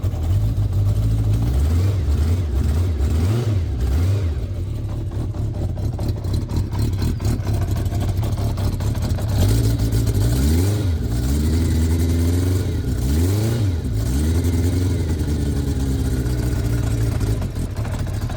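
Cold car engine with a stainless steel exhaust tip, revving repeatedly in loud rising and falling bursts over a steady idle, close and continuous throughout.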